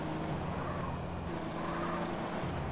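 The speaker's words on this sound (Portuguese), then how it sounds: "Olha lá, tem um carro" A car drives by in GTA San Andreas, its steady engine drone holding a sustained tone with a slight pitch shift midway, moderately loud and continuous.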